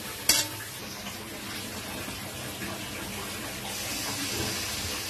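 Water goes into a hot pan of katla fish curry, a quick sharp splash followed by a steady low sizzle and bubbling that carries on alone.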